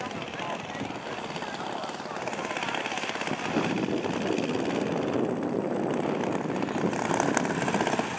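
A Savage Bobber RC model airplane flies at a BMFA nationals meet with a steady buzzing propeller drone that swells as it comes in to land, under a commentator's voice.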